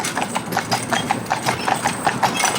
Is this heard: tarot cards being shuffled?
no